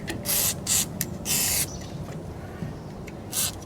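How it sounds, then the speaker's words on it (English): Several short hissing bursts from a WD-40 aerosol can sprayed onto a hinge, about five sprays with brief pauses between them, loud and close. "just spray it in there"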